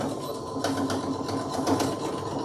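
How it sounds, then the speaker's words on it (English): Steady mechanical whirring of a sewing machine running through fabric, with faint rhythmic ticks, close and continuous. "I'm going to put those underneath the foot of my sewing machine."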